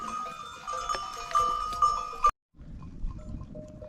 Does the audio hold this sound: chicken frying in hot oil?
no